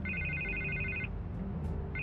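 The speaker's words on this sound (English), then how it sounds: "I can't get the phone to stop ringing." A telephone rings in Batman: The Telltale Series: a loud electronic trill lasting about a second, then a pause, then the next ring beginning, over a low background hum with no talking.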